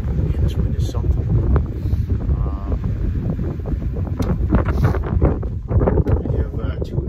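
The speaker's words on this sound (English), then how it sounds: "this wind is something" Strong gusty wind buffets the microphone continuously at an outdoor shooting range, a loud broadband rumble with a few sharp clicks and knocks over it.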